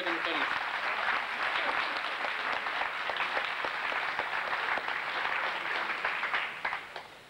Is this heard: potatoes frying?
no